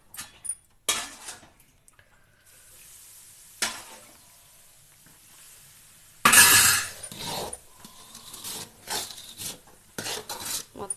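Thick Mysore pak mixture bubbles and sizzles in a pan as a spoon scrapes and stirs, with irregular metallic clatters and one loud burst of sizzling partway through.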